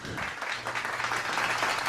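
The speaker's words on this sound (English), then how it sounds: "I was looking for my clapping sound effects" A short burst of clapping sound effect, a small group's dense, even applause at moderate level lasting under two seconds.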